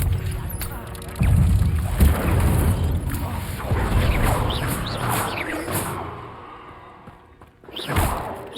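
Incendio fire spell cast in Hogwarts Legacy gameplay, a loud whooshing burst of flame with booming thuds sustained for several seconds amid busy game effects, ending with a final whoosh.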